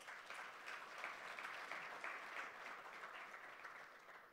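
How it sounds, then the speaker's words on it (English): Delegates at the Namibia National Green Hydrogen Conference give a round of applause, a faint, even, sustained clapping from a distant hall audience that tapers slightly at the end. "Let's give him a round of applause, please."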